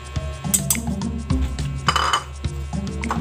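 Clinking and scraping of a utensil stirring cornstarch dissolved in water in a bowl, a steady close run of metallic taps against the dish with no talking.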